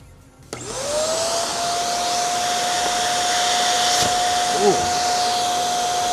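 A Bissell Little Green Max Pet deep cleaner kicks on suddenly and runs with a steady loud motor whine and suction roar while it pulls up hair, its tone holding constant throughout.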